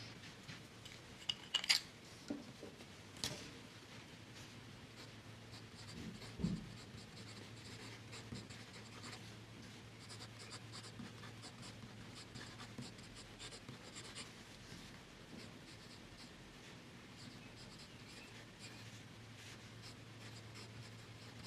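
A Kaweco fountain pen with a medium nib writes Waterman Intense Black ink on Rhodia paper, giving a faint, continuous close-up scratching with a few sharper taps and clicks early on.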